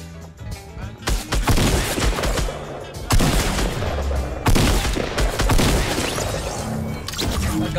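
Dense, loud gunfire bursts in Fortnite Battle Royale, rapid shots with heavy impacts and crashes, coming in several intense waves close by.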